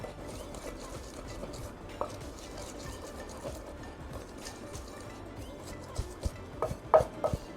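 Shardai (ragda) ingredients are pounded and rubbed into a paste by hand. A quiet, steady gritty grinding continues throughout, broken by a few soft knocks near the end, with no talking.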